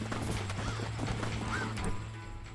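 A horse galloping with rhythmic hoofbeats and a brief whinny in the video game Red Dead Redemption, close and moderately loud over a steady background hum.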